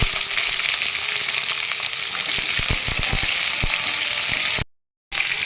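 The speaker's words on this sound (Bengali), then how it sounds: "এবার আমি একটু কষিয়ে নেবো সবজিগুলো একটু ভেজে ভেজে নেবো" Mixed vegetables (drumstick stalks, potato, pumpkin, brinjal and ridge gourd) fry in oil seasoned with panch phoron and dried red chillies, giving a steady close sizzle with scattered stirring clicks and a short silent break near the end.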